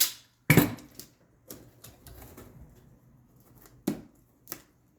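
Packing tape is pulled off the roll and pressed onto a custom cardboard shipping box in a few loud, sharp rips and snaps separated by quiet gaps, close by and with no talking.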